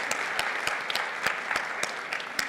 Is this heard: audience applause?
yes